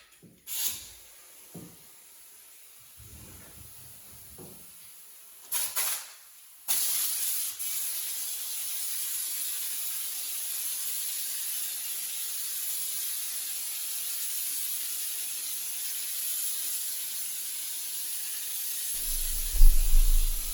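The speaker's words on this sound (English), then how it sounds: "we're going to spray the Bedliner in this thing" A spray gun set to 60 psi spraying truck bedliner on a 2002 Honda Accord converted to a truck: a steady, hissing spray runs continuously for about twelve seconds after a few short clicks and bursts, then cuts off abruptly.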